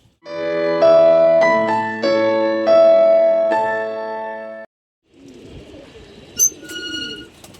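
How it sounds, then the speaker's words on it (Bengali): Clear, sustained tonal notes ring out in a melodic sequence from a pigeon, then a softer rustling stretch with a few bright chirps near the end. "এই যে একটি গাংচিল কবুতর আপনাদেরকে দেখাচ্ছি"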